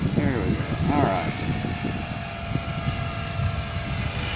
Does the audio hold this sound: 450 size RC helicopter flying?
yes